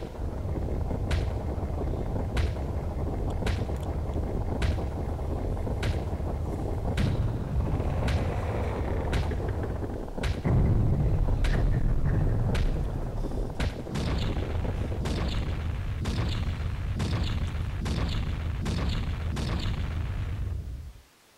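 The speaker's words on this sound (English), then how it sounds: "Fireworks." Fireworks from the Majora's Mask video game burst repeatedly over a steady booming, windy backdrop, roughly one loud sharp pop every second or so for about twenty seconds, with no talk.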